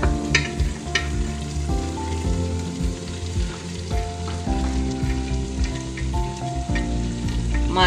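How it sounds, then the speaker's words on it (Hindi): Fresh, still-firm peas fry in a pan with a loud, steady close sizzle and occasional stirring scrapes throughout. "थोड़ी देर के लिए मटर भी भूनेंगे।"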